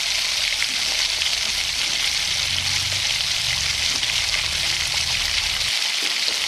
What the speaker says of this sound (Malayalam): ഇതേപോലെ നമുക്ക് എല്ലാ ബ്രെഡും എണ്ണയിൽ ഫ്രൈ ചെയ്തെടുക്കാവുന്നതാണ്